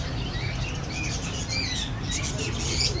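Lovebirds and parrots chirp and tweet in a busy exotic bird market in Saddar, Karachi, a steady layer of overlapping high calls over crowd murmur and low background rumble.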